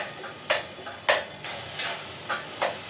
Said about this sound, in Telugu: అల్లం వెల్లిగడ్డ పేస్ట్ మంచిగా ఫ్రై అవ్వనిద్దాము.